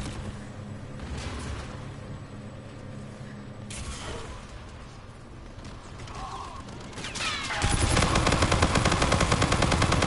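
Automatic gunfire in a video game shooter, sporadic bursts early on building to a loud sustained stream of rapid shots in the final seconds, with no talking.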